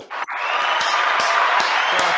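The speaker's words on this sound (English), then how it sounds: "Clap it up." Audience applause and cheering from a live show crowd, a loud, steady wash of clapping that sustains after a brief start, with a few whoops.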